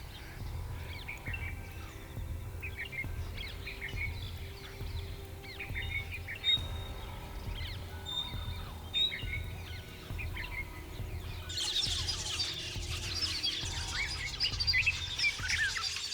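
A flock of European starlings chirping and whistling, many overlapping calls at moderate distance that swell busier and louder toward the end.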